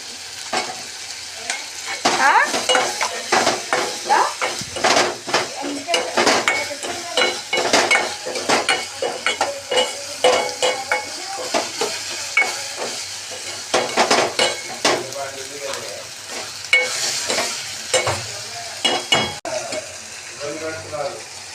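Food stirred in a pan after salt is added, a busy run of loud metal scraping and clattering spoon strokes in uneven rhythm over an ongoing sizzle, close and continuous without speech.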